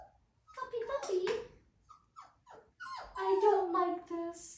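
A puppy whimpers and yips in short, whiny bursts, close by, mixed with a person speaking coaxingly over it.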